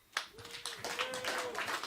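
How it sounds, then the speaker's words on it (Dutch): Applause for a pony at an indoor gathering: a few people clap briefly and unevenly, close by and fairly soft, with light hand taps scattered through the short burst. "Heel het applaus voor de pony."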